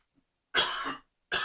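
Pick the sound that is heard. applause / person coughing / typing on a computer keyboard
person coughing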